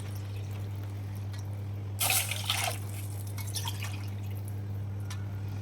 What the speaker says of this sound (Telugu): రెండు గ్లాసుల వాటర్ పోసేసుకుంటాను.